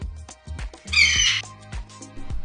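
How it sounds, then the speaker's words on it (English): An eagle gives a single harsh, shrill screech lasting about half a second in the middle, set among shorter squawking and tonal calls before and after. "Uh-oh, is that an eagle?"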